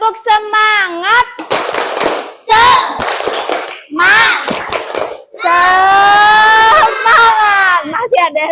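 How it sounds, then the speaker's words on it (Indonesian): A primary school class in a science lesson does a rhythmic clapping chant together, bursts of children's voices and claps alternating with short pauses, loud and close, with a teacher's voice between rounds. "Sebelumnya, coba kita tepuk semangat dulu ya."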